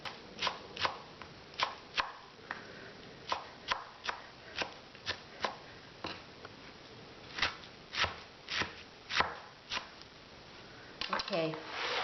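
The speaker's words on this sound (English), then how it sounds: "Soybean sprout is not hot anymore, so I'm gonna chop all this." A knife chops cooked, cooled soybean sprouts on a board for Korean chicken dumpling (mandu) filling: a steady series of crisp, close blade strikes, about twenty over twelve seconds, in loose bursts with brief pauses.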